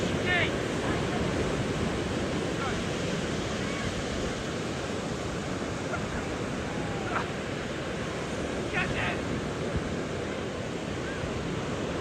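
Ocean waves wash onto a beach under steady wind, a constant broadband roar of surf and gusting air buffeting the microphone, with faint distant sounds in the background.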